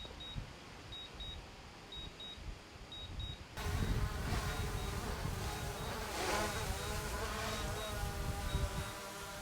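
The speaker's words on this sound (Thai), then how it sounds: "เดี๋ยวตัวโดนจะบินลงมาเองอัตโนมัติครับ" A DJI Mavic 2 drone's high buzzing propellers whine steadily as it lands automatically on return-home, growing louder and closer partway through, with faint intermittent beeps in the background.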